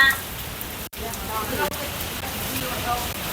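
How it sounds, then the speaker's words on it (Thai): Steady rain pattering on a surface, a dense even hiss throughout with a brief dropout near the start. "ฝนตกพี่น้องเอ้ย"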